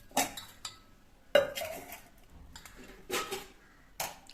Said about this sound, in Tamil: இப்போ மிக்ஸ் பண்ணிடலாம் ஒன்று சேர்த்து